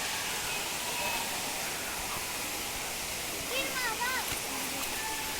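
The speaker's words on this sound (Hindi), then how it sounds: "अच्छा दूरी से पानी गिरता है यहाँ पे।" Kakolat waterfall in Nawada district, Bihar, pours down as a steady, full broadband rush of falling water filling the scene; a voice speaks briefly over the roar partway through.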